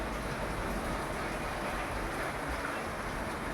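Steady, low rushing floodwater from a typhoon roars continuously down a road in the distance, a broad wash of noise with no pauses.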